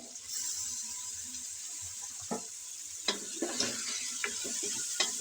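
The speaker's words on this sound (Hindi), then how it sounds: "तो अब मैं इसमें पहले ऐड करूँगी गोश्त को, मटन का गोश्त। इसको बुनाई करके फिर मैं मसाले ऐड करूँगी।" Mutton pieces frying in a pan with onion, ginger, garlic and tomato, a steady close sizzle with occasional stirring scrapes and clatters, no talking.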